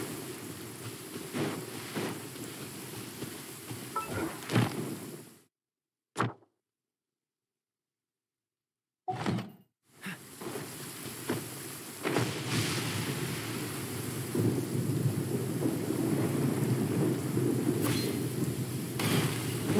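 Rain with thunder in the video game Genshin Impact: a steady, hissing downpour that cuts to near silence briefly midway, then returns and builds a little louder, with no talk.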